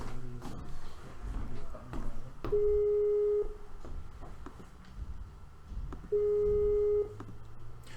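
A phone's outgoing-call ringback tone sounds twice, each a steady tone lasting about a second, over faint background clatter and handling noise at a meeting.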